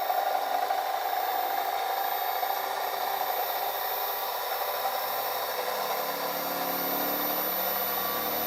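A steady electric motor hum with a constant high whine, running smoothly and close by with a slight shift in pitch near the end.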